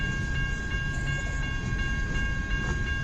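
A long CN B731 westbound freight train rolls past in Kimball Township, a continuous loud rumble with steady wheel clicks and faint high metallic ringing, close by and without voices.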